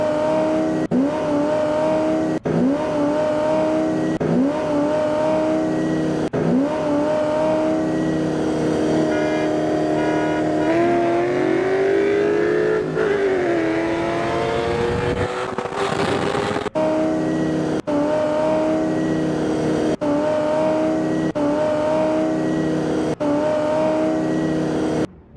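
Holden Monaro GTO race car in Automobilista 2, its engine droning loudly and steadily throughout, with repeated gear-shift rev jumps and a rising then falling pitch sweep midway, the tone continuous with no talk.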